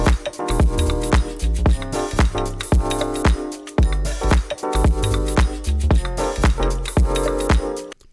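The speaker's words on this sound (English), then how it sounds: "We need some crunch here, so I've added a hard clipper on the master," Full music mix with drums, bass and melodic parts, crunched by hard clipper distortion on the master bus for a minimal-house beat; dense, loud and steady with punchy transients throughout, no voices.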